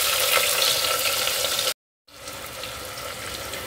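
Sliced onion rings drop into hot oil for chole, a loud hissing sizzle up close that cuts off abruptly, then resumes as a softer, steadier frying crackle.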